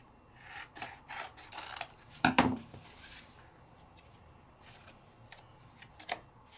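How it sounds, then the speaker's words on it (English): Sandpaper rubbed across a sheet of paper in short, quiet scraping strokes, several quick passes in a loose rhythm with one brief sharper rasp, faint and close. "I always sand both sides, always."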